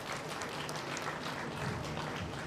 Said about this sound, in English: Please give a big round of applause to all the students who secured good positions.